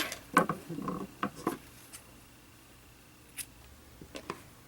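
Scissors snip through crocheted yarn strands for a crochet turkey: several quick, close cuts clustered early, then a few fainter isolated snips in a quiet room.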